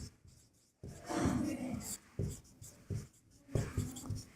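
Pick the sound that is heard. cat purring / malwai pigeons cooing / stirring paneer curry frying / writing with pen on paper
writing with pen on paper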